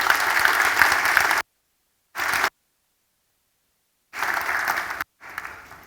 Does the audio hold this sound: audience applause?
yes